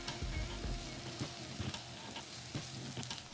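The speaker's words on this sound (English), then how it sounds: "Now we're gonna let this fry undisturbed for a bit." Yaki udon stir fry of noodles and vegetables left to fry undisturbed in a pan, giving a quiet, steady sizzle with faint crackles and small pops throughout.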